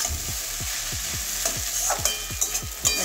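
Egg chowmein being stirred with masala in a hot pan, a steady sizzle broken by regular scraping strokes of a spatula, about three per second, close and clear with no talking.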